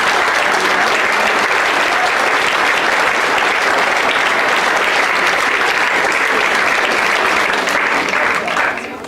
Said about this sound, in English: Everybody give Howard a big round of applause.